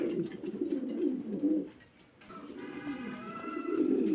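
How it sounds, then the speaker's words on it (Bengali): Pigeons cooing at a farm, low repeated throaty coos close by, with other birds faintly in the background. "একজনে ডাকতেছে না প্রচুর ডাকাডাকি করে প্রচুর সব কবুতর"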